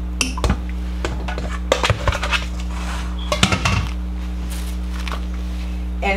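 Fish pieces are dropped back into a bowl, producing scattered clinks and knocks against the dish, with a few sharper clusters of contact over a steady low kitchen hum.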